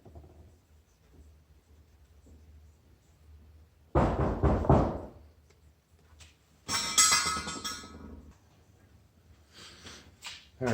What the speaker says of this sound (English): sorry I had a visitor knock on my door